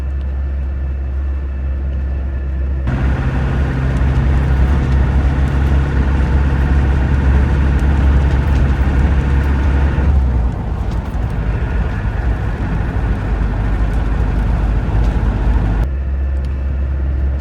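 Inside a 1992 Land Rover Defender 90 with a 200TDi diesel engine and a galvanised chassis, a steady, loud engine drone and road rumble carry on while the vehicle drives along a road.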